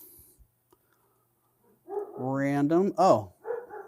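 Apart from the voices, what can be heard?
dogs barking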